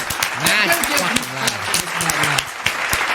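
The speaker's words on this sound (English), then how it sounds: "You're just gonna give huge claps to this mad fucking lads." Enthusiastic applause with clapping and cheering fills the scene, loud and continuous, while a voice talks over it throughout.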